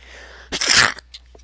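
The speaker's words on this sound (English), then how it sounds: "Almost sneezed" A stifled sneeze from a character in the Ace Attorney Investigations video game: one short, muffled burst of breathy noise, close and fairly loud, with a couple of faint small sounds after it.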